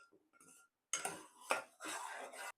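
Kadhi is stirred in a pot over a low flame, with a spoon scraping and clinking against the metal in a few separate bursts. Quiet gaps fall between the bursts, and faint kitchen sounds come before them.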